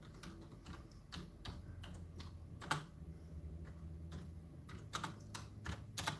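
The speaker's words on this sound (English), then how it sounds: "Just typing in there." Quick, uneven keyboard typing, a run of light clicks and taps close by, with a few louder keystrokes among them.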